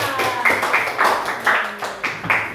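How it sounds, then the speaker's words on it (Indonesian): A small class of students gives a short round of applause for a student group, with a handful of distinct, rhythmic claps about every quarter second, fairly close. "Kita beri tepuk tangan dulu dong untuk kelompok 2."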